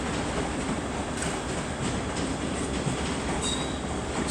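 Train rolling through Edinburgh Waverley station, a steady loud rumble of wheels on track with faint clacks and squeals, continuous and close with no voices.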